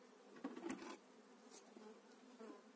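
Black race honeybees buzz at the hive, a faint close-up hum with brief louder passes as individual bees fly near, and no talking.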